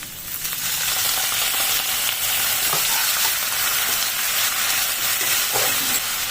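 Water poured into a hot pan of frying young jackfruit with garlic paste sets off a loud, continuous hiss and sizzle that holds steady throughout, with faint stirring scrapes underneath.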